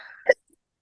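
A single short, sharp sneeze bursts out after a faint murmur, then silence.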